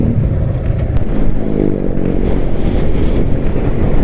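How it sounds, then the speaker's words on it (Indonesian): Strong gusting wind roars and buffets the microphone in a continuous low rumble with no voices, outdoors near a motorbike. "Aduh, anginnya kencang banget ya."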